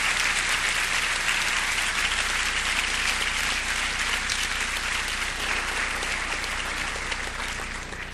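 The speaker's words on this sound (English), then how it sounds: "another round of applause for our senior choir and band members" A commencement audience at a high school ceremony applauds the senior choir and band, a broad steady wash of many hands clapping that holds loud and dense, then slowly begins to thin toward the end.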